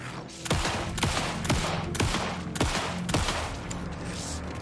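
Several loud gunshots ring out in the video game Alan Wake 2, each a sharp blast with a falling tail, spaced roughly every half second to a second over a steady backdrop of game noise.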